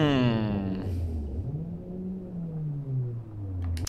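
Engine of a vehicle in a crime chase video game held at full throttle, a loud sustained drone with a rising then falling pitch, sweeping up and down with continuous harmonics throughout.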